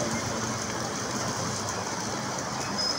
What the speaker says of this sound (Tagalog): Nakuha na natin ng actual yung napakalakas na ulan